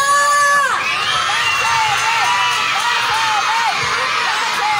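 A crowd of children shouts and screams excitedly at close range, a dense continuous roar of overlapping high voices with rising whoops, right after a short electronic tone at the start.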